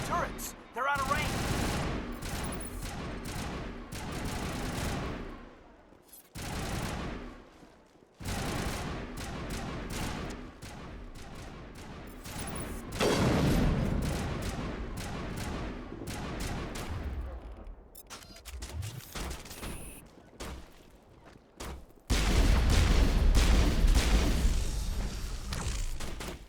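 Coordinated gunfire and artillery in a Mass Effect battle, with rapid bursts of weapons fire and heavy thumps that come in waves and pauses, building to a loud sustained barrage near the end.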